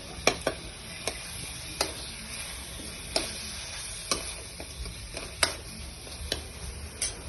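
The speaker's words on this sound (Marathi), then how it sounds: "आपण आता हे छान मिक्स करून घेऊया" A spoon stirs pav bhaji mixed with red chili powder in a pan, with sharp intermittent clicks and taps against the metal over a faint, quiet sizzle.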